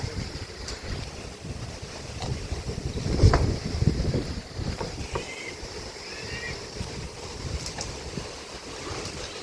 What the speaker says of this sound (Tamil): காற்று அடித்தாப்பா, நல்ல காற்று.